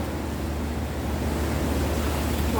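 Strong wind blows steadily outdoors during magnet fishing, a loud, continuous broadband rush with low buffeting rumble across the whole stretch and no talking.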